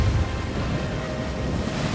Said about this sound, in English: Storm waves